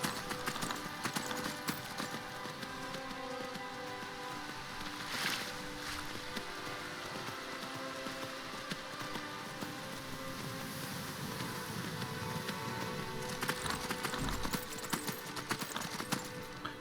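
Rhythmic clip-clop of horse hooves trotting steadily throughout in the video game Skyrim, with a low ambient background and no talking.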